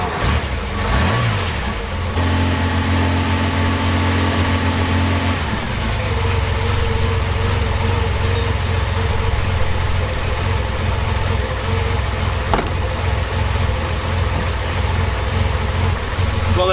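A Reliant car engine cranks, catches with a rev, then settles into a steady, loud, slightly uneven idle that carries on for the rest of the stretch.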